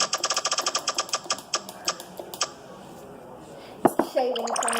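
A prize wheel spun during a slime-making challenge, its pointer clicking in a rapid, even rattle that slows and fades out, then a clatter and voices at the end.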